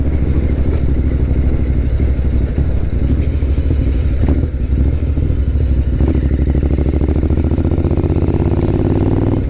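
An Interceptor motorcycle engine snarls loudly up close, with a rough, pulsing, throbbing note that rises and falls steadily throughout, with no voices.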